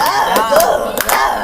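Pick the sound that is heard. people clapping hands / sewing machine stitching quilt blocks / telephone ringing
people clapping hands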